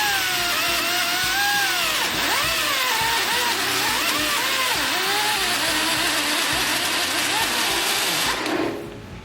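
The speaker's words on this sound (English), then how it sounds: "now I'll clean up the rest with this long carbide burr I got" A long carbide burr grinds steel on an old Heald Hauler machine, making a loud, continuous whine whose pitch wavers and dips as pressure changes, then cuts off near the end.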